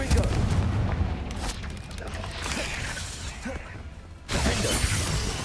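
Confringo fire curse spell blasts in Hogwarts Legacy combat, loud bursting booms and shattering cracks over a dense battle din, with a sharp renewed surge near the end.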